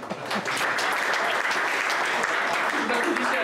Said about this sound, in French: Si vous applaudissez à chaque phrase, on n'est pas rendu non plus.